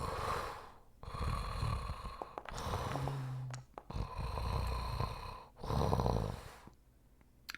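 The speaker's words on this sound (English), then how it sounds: "not quite a snore, but heavy breathing." Labored, heavy breathing with a rumbling, snore-like rasp comes in several long drawn breaths separated by brief pauses, heard from some distance inside a building.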